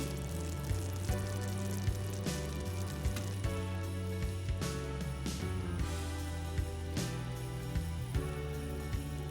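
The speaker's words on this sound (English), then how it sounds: "Can you hear the sizzle? You see it bubbling? We are making caramel." Steady soft sizzling and crackling from caramel cooking in a hot pan, with faint bubbling pops running continuously underneath a low background hum.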